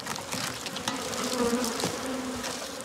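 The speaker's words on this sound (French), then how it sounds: "La famille Hamet possède 1000 ruches réparties sur une trentaine d'emplacements." Honey bees buzz densely around beehives in a forest apiary, a continuous close swarm hum with no voices.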